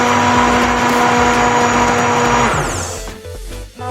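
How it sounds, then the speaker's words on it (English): A hand blender whirs loudly as it purées simmered tomato basil soup in a pot, a steady high motor drone that winds down and cuts off near the end. "now I'm going to use this hand blender here to blend it"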